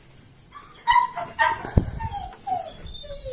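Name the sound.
dog barking and whimpering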